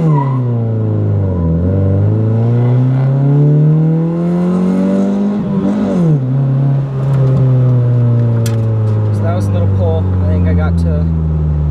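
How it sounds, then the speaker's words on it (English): Honda Del Sol accelerating hard from a stop after an engine rebuild, loud close engine climbing through gears with pitch drops at shifts, a brief tire squeal near the end. "I'll do a quick little pull up here, just from a dig"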